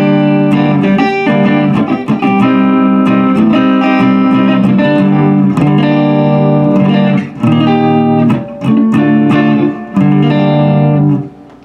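A very cheap electric guitar, bought on Amazon, plays loud sustained chords and notes through a distorted amp tone with some reverb, ringing continuously with a few brief pauses.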